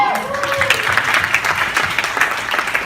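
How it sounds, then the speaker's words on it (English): Audience applause for a coaching and consulting presenter, a dense, steady wash of many hands clapping at close range throughout, with no talk over it. "Give him a round of applause"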